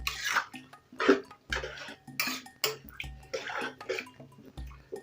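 Spoon stirring tomato paste into water in a cooking pot, a series of close, short swishing and scraping strokes with light liquid sloshing, no talk.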